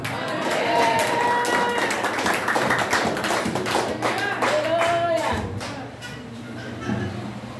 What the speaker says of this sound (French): Amen, l'église. Applaudissements.